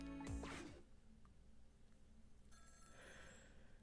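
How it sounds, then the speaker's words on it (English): A telephone rings in the detective puzzle game Ghost Trick: Phantom Detective, one bright electronic ring burst at the start followed by quieter game ambience and a faint second tone. "let's get to that phone before it stops ringing"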